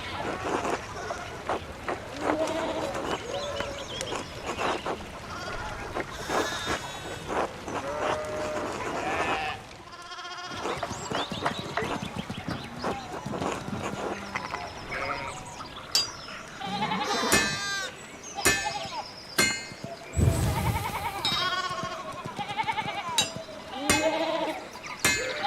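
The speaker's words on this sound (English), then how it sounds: "Some of the goat noises get a little bit overbearing." Goats bleating repeatedly in the video game Pentiment, overlapping calls with cowbell-like clanks and game ambience, fairly loud and continuous throughout.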